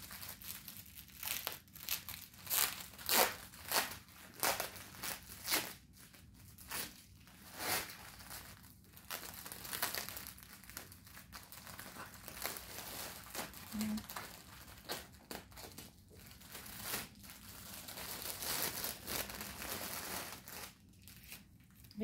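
Plastic packaging crinkles and tears as a diamond art kit is unwrapped, close-up rustling and crackling in uneven bursts that continue throughout without speech.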